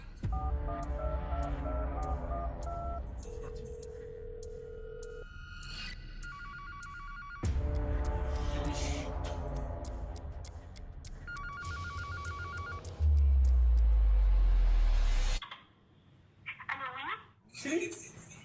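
A telephone rings repeatedly on a call placed to track down a suspected predator, loud, clear tones repeating in a steady pattern with voices talking over it, then a short, quieter stretch as the call is answered.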